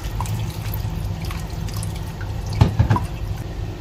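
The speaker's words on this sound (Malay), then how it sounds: "Okay, kita letakkan air asam pula. Kita saring, okay." Tamarind water trickles and drips through a kitchen strainer while sauce for Indian rojak is made, with a soft steady pour and a few louder splashes near the end.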